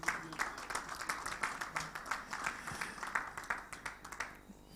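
A round of applause at a postgraduate award ceremony, faint and somewhat distant clapping from the audience with scattered sharper claps, fading out near the end.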